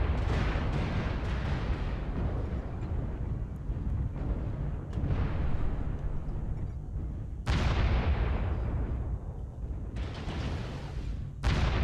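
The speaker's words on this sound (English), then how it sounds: "Warning, incoming missile." Missile strikes in a combat video game land as a series of heavy booming explosions, each a sharp loud impact that rumbles and decays, repeating several times amid continuous low battle noise.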